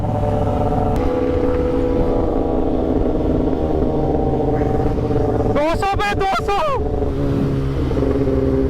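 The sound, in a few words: superbike accelerating at high speed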